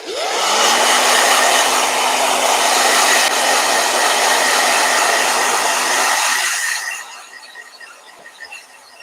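A blow dryer whirs loudly and steadily for about seven seconds while drying a marker painting, then cuts off, leaving quiet room sound.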